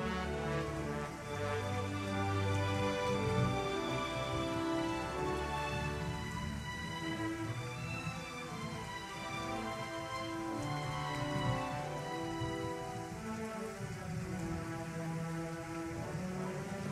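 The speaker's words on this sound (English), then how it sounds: "I want to fade out the rain effect." Rain sound effect played back through SCS show control software, a continuous wash of falling rain with dense pattering, steady and fairly loud throughout, no voices.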